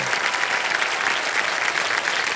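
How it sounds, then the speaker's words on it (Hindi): Steady clapping from the studio audience of the Indian TV quiz show Kaun Banega Crorepati, a dense wash of applause holding at an even level throughout. "उनको ताली बजाओ जोर से"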